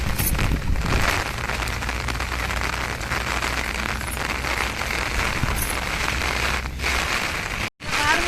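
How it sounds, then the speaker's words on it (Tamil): Heavy rain pours down in a dense, unbroken roaring hiss, driven by fairly strong wind, loud and steady throughout with no pause. "இன்னைக்கு அடிக்கிற மழையை பாருங்க சட்டியான அன்னைக்கு பாருங்க ஊற்றிக்கிட்டு இருக்கு மழை"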